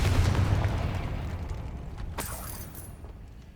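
A Confringo blast spell goes off in the game Hogwarts Legacy, a single deep boom that bursts loudly up front and then rumbles and fades over a few seconds.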